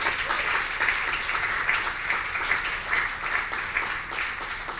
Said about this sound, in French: on devrait applaudir ça